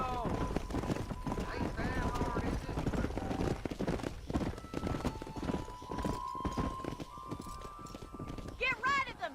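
Horse hooves clip-clop steadily in Red Dead Redemption while horses neigh and whinny, mixed with game music tones and frequent speech from characters and a player talking over the action.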